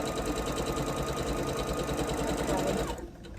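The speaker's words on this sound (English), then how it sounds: "Let's sew these together." Close and steady, a sewing machine stitches quilt blocks together at a fast, even, buzzing pace for about three seconds. Then it slows and stops.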